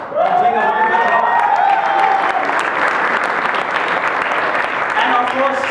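Sustained audience applause after a speech: dense, steady clapping from a sizable crowd, loud throughout with a few voices faintly mixed in.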